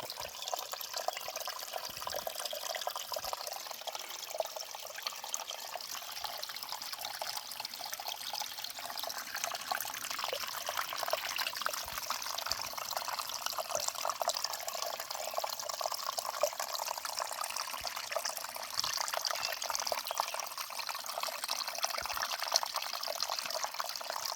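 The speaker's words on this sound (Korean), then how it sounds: "절절절절 이렇게 잘 흐르고 있습니다." Water flows steadily along a mountain ridge stream, a continuous bright trickling and babbling with small drips, fairly faint and uninterrupted throughout.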